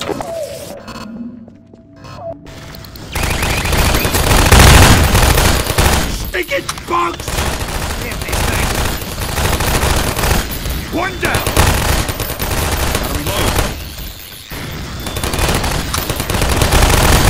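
Sustained turret machine gun fire in the Half-Life 2 Episode Two video game, loud and continuous rapid bursts with dense shot rattle and thuds. It starts after a brief quieter moment and keeps up almost without pause.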